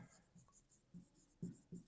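A pen writes on paper in a series of short, faint scratchy strokes, soft and close, with brief pauses between them.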